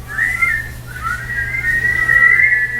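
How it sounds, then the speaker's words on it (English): People at a zoo presentation whistling a simple one-note whistle, a clear sustained pitch that breaks once, then resumes, loud and close, with several overlapping whistlers wavering slightly. "do just a simple whistle"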